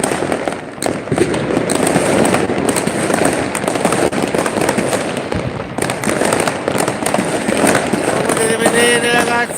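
A festival fireworks display produces a continuous, dense barrage of bursts and crackling firecrackers from all sides, loud and close, with no break.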